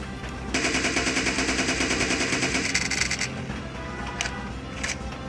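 An SLR rifle in a video game, fired in rapid automatic succession while aiming through a red dot scope, a sustained loud rattling burst for several seconds with a couple of trailing shots afterward.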